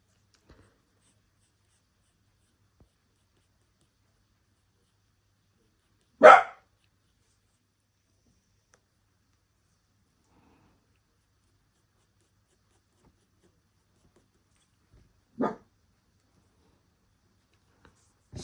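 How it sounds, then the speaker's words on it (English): A cockapoo dog barks indoors, two short isolated bursts several seconds apart with near silence between them, heard at moderate distance. "Sorry if you can hear my dog barking."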